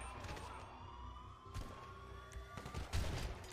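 Distant gunfire crackles in GTA 5 roleplay during a prison lockdown, faint under a steady hum of game ambience and tonal background, with a couple of louder bursts near the end.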